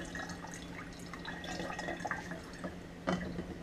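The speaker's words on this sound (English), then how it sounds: "what I want to do is squeeze as much of that out as I can." Water dripping and trickling as soaked turkey tail mushrooms are squeezed by hand, a close, quiet run of small splashes and drips with one brief louder spatter near the end.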